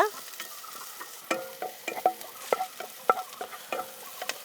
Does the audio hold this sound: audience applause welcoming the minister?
no